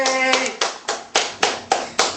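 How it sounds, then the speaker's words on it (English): A small child claps hands in a steady series of about seven sharp, close claps at a brisk even rhythm, after a brief moment of voiced sound at the start. "Clap."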